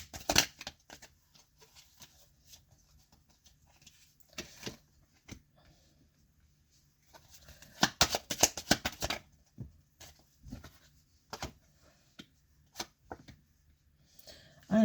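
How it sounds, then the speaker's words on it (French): Playing cards being drawn and shuffled during a French tarot-style reading: soft papery riffles and flicks in scattered bursts, one longer flurry midway, close and quiet against near silence. "Alors, je tire les cartes et après j'explique."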